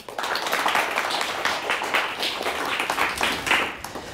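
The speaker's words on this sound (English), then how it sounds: "nice round of applause for both teams here tonight" Applause for both teams at a high school quiz championship match between Alma and Flint Powers, a steady patter of many hands clapping from a modest audience.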